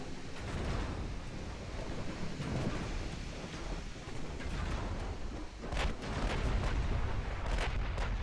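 Battleship guns firing armor-piercing shells in the naval combat game Ultimate Admiral Dreadnoughts, a continuous booming roar of gunfire and sea noise with sharper cracking blasts toward the end.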